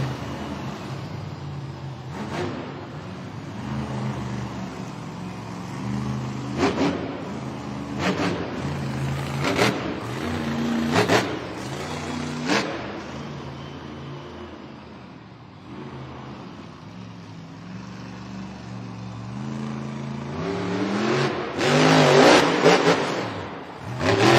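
The El Toro Loco monster truck revs its engine in a Monster Jam stadium event in Cleveland, with repeated loud throttle bursts rising and falling over a continuous low rumble.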